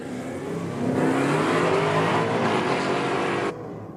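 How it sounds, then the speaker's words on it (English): Ford Mustang and Holden VK, the VK naturally aspirated, in a roll drag race: loud engines roar under hard acceleration with rising revs, cutting off sharply near the end, no voices. "we're going to have Ford versus Holden, the Mustang up against the VK."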